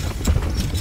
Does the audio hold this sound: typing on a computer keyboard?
no